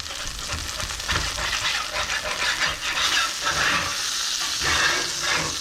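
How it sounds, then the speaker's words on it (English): Burnt Impossible Burger plant-based patty residue is scraped off a hot griddle amid steady sizzling, a continuous hiss with rough scraping strokes throughout. "I'm gonna try and scrape some of this burnt stuff off."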